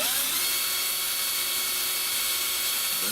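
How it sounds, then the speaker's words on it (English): A power drill whines steadily and loudly at close range while boring a shallow pilot hole during a build, one continuous high-pitched run with no talking. "You don't have to go very deep. All you're doing is making a pilot hole"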